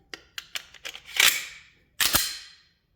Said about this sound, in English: you can tell right away, just from the sound of the gun racking